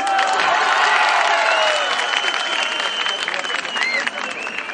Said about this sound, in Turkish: Öncelikle kıymetli belediye başkanımızı yürekten bir alkışlayalım.